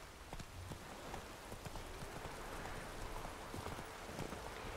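Horse hooves clip-clop at a steady walking rhythm in The Witcher 3, soft and moderately close over a faint ambient wash.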